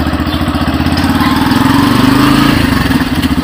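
A motorcycle engine runs steadily at close range with an even, throbbing idle-like rumble and no pauses, heading out toward the market in Assam.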